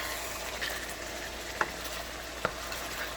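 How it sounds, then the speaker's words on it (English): Stirring cod and baby new potatoes in a cooking pot, a soft low simmering hiss throughout with two distinct sharp scrapes or knocks of the spoon against the pot, quiet and close. "I'm going to stir it up again"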